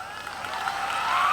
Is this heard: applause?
yes